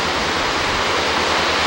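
Ocean waves on a Florida beach make a steady, loud, broad wash of surf with no breaks and no voices.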